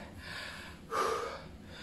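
Heavy, winded breathing after a set of bodyweight push-up variations for the chest, a steady close breathy hiss with one sharper gasping exhale in the middle, no talk.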